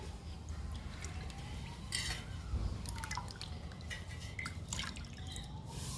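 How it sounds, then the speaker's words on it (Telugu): Coffee powder is stirred into water to make a liquid plant feed, with close liquid swishing, drips and light clinks of a utensil against the container. "ఇప్పుడు కలుపుకుందాము లిక్విడ్ని."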